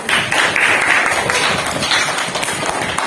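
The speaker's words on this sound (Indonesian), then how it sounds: "Kasih aplaus untuk kelompok 2." A classroom group claps for group 2, a short burst of dense, even applause from many hands lasting about three seconds.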